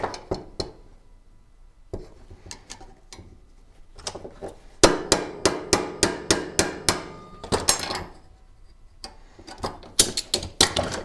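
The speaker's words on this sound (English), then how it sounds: "this is not a proper hammer, but it's good enough" Repeated sharp hammer blows from a makeshift, improvised hammer while fixing a portable GFCI outlet, arriving in irregular bursts with a fast steady run of strikes in the middle, close and loud.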